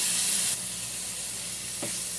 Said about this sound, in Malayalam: നമുക്കിനി തക്കാളി ഇട്ട് കൊടുക്കാം കേട്ടോ